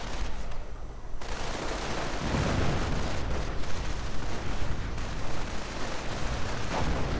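Dense infantry gunfire rattles through a war video game skirmish, with overlapping rifle and machine-gun bursts forming a continuous loud barrage over a low rumble of distant explosions, steady throughout without pauses.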